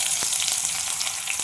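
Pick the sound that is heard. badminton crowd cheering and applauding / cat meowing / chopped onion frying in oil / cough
chopped onion frying in oil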